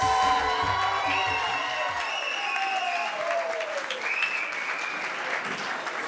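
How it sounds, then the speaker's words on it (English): Wedding guests clap together in a steady, fairly loud wash of applause with a few cheers mixed in, while music or a voice fades out at the start. "A round of applause."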